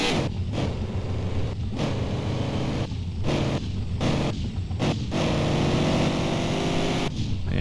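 A Dodge Charger driven in the video game Car For Sale Simulator, its engine droning steadily with rising and falling revs and brief dips between gear changes, loud and continuous with no talking.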